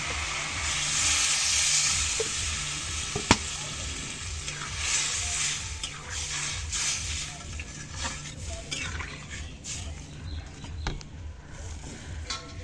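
Water added to a thick, cooked-down curry in a pan, a steady hiss and sizzle that fades gradually, with a sharp clink near the start and birds and pigeons cooing faintly in the background.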